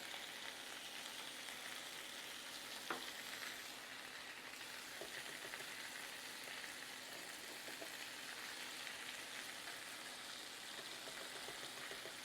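Lamb chops frying in butter in a pan give a steady, even sizzle with a soft crackle, heard alone at low volume.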